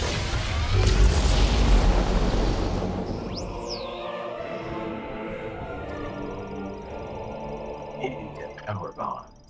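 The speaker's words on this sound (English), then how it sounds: "Power bomb." A power bomb detonates in Metroid Prime 4: Beyond with a heavy, loud boom that swells and rumbles, then decays into a shimmering electronic tail with a rising synthetic whine and faint chimes.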